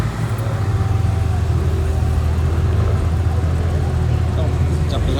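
A Chevrolet Corvette C7 Z06 engine runs at a car meet, a steady loud low rumble that holds throughout, with a person talking over it.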